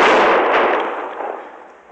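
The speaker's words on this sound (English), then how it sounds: "Somebody was shooting at me, Chester." A single loud gunshot in a Western radio drama cracks close and sharp, then a long echoing tail fades out over about two seconds with no voices.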